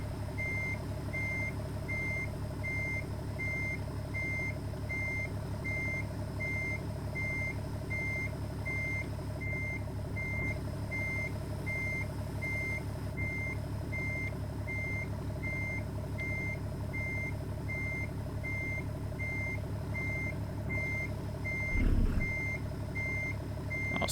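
Reversing alarm on a hot shot car-hauling truck in American Truck Simulator, beeping in a steady, evenly spaced rhythm over a constant low engine drone, with a brief thump near the end.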